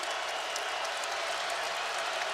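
Sellout basketball crowd in an arena, a steady, distant wash of cheering and applause with faint whistles and shouts and no clear voice on top.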